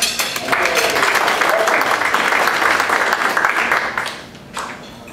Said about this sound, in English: And a big round of applause for our guests.